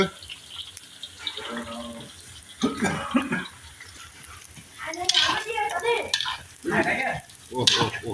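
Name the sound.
onions and bones frying in oil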